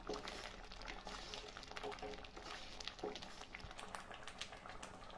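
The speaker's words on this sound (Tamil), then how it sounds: "நல்லா தளதளன்னு தெரிச்சு வரும்" Ginger paste cooked with jaggery syrup boiling and bubbling in a pan over medium flame, a faint, continuous crackle of small popping bubbles with occasional stirring.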